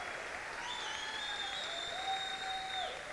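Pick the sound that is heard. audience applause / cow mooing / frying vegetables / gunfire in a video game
audience applause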